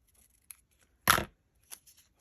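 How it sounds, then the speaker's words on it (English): A paper pharmacy bag being cut with scissors, heard as one short, close snip-and-slice burst with a few faint clicks of the blades before and after, no talking. "Let me cut that as straight as possible."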